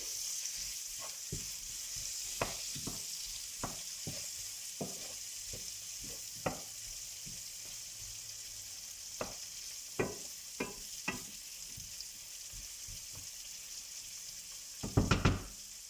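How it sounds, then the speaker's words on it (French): Onions caramelizing in a pan of sunflower and olive oil, a steady close sizzle carrying on throughout, dotted with scattered stirring clicks and scrapes and a brief cluster of louder knocks near the end. "Comme ça, mes oignons vont bien caraméliser."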